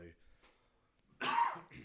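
A single close, harsh cough bursts out after a quiet pause, followed by a brief breath or murmur.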